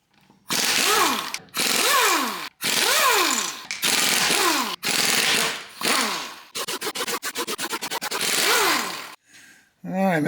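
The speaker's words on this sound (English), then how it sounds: "Let's get the wheels off." Several loud bursts of a power tool whirring and winding up and down pull the wheels off a Geo Tracker, with brief pauses between and one rapid rattling run near the end.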